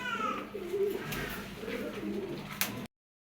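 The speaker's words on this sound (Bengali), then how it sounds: "একটা টপ কোয়ালিটির লাল গররা নর কবুতর, দেখেন কতটা অ্যাক্টিভ, সে কীভাবে ডাকতেছে দেখেন" A top-quality red male pigeon coos in a low, repeated rolling burble, close and steady across a few seconds with faint background noise and a brief click near the end.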